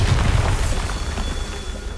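A Bombarda spell explodes in Hogwarts Legacy, a loud low boom that starts the clip and then fades into a rumbling, crackling tail.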